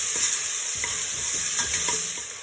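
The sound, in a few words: sauteing food in a pan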